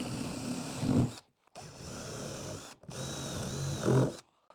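A power drill bores into wood through a drill block in two close, loud bursts. Each whine builds in strain and cuts off sharply, leaving short gaps of near silence between them.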